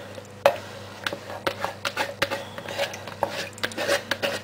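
Oils, butters, milks and clays are mixed for handmade sandalwood vanilla silk soap, giving a close run of irregular tapping and scraping clicks from a utensil against a container, moderately loud and with no voices.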